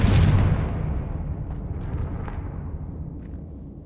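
Blasting spell cast in Hogwarts Legacy: a loud booming explosion bursts at the start, then rumbles and decays over several seconds with faint crackles trailing off.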